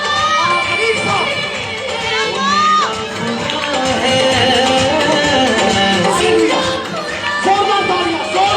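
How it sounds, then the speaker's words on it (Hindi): A church congregation claps and cheers loudly for its pastors, a busy, crowded roar of voices and clapping that holds steady throughout. "जोरदार तालियां, जोरदार तालियां दी"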